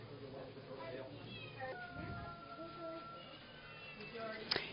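A four-year-old cat at an animal shelter meows several times, drawn-out and close, while a person talks over it.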